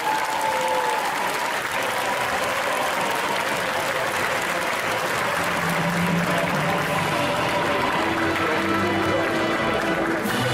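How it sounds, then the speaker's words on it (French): A large audience at a cosplay contest applauds loudly and continuously, a dense wash of clapping that holds steady throughout with faint voices mixed in. "Alors on les applaudit bien fort s'il vous plaît."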